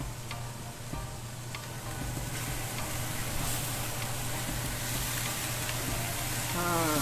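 Korean-style potatoes stir-fry in a pan with salt and a splash of water, giving a close, steady, loud sizzle throughout with faint scraping and ticking from the stirring.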